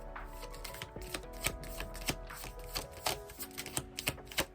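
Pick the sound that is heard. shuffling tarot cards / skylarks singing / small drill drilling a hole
shuffling tarot cards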